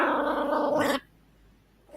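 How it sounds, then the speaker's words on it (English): A small dog growls continuously while playing, a close, rough rumbling that lasts about a second before cutting off into near silence. "Oh, you're just a mean little dog."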